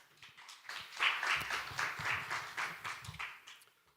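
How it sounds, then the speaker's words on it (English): Audience applause at a fiscal policy workshop, a soft, steady patter of clapping from a room of people that swells and then tapers away over a few seconds, with no talking. "Please welcome with a big round of applause."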